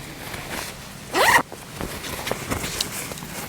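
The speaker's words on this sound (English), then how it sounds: "These also have zips down the side for ventilation" Side ventilation zip on lightweight Fjallraven hiking trousers pulled open in one quick, loud rasping stroke, close up, with faint rustling before and after.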